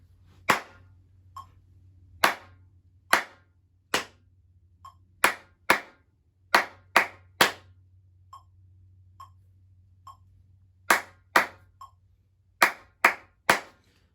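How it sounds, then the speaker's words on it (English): A class of students claps a counted rhythm exercise together during a music lesson, with sharp, unison claps in uneven groups separated by rests and a few softer taps, in a quiet room with no talking. "Counting and clapping."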